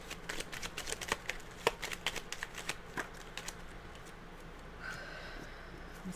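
Tarot cards being shuffled close by, a run of crisp riffling snaps and soft slides repeated several times, then a brief smoother swish near the end, with no talking.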